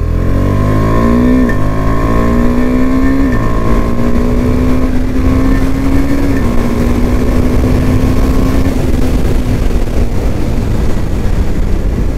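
KTM Duke 390 motorcycle ridden in second gear, its engine note climbing in steps and then holding a steady, close, buzzing drone with no talk over it.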